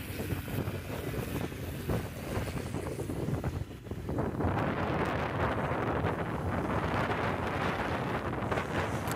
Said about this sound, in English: A little bit more wind off the nose now.